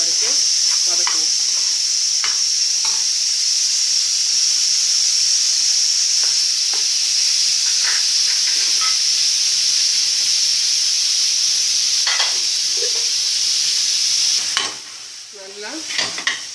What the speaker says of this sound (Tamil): கத்திரிக்காயை போட்டு கொஞ்சம் நிறம் மாறுற வரைக்கும் வதக்குவோம்.